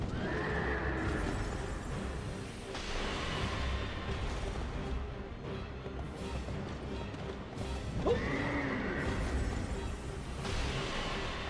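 A skeleton horse in a video game neighs twice, each a shrill whinny rising over a dense, continuous rumble of game noise. A thud or crash marks the second call.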